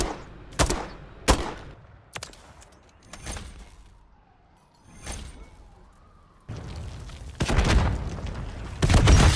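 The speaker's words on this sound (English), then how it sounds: "and then shoot your last 3 shots" Gunshots in the video game Modern Warfare III on the Rio map: a series of sharp, loud single shots spaced irregularly, then denser heavy blasts toward the end, with quieter gaps between.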